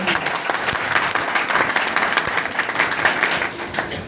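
A seminar audience at a life-changing program breaks into loud, dense applause on cue, a steady wash of many hands clapping close by for about four seconds without talk.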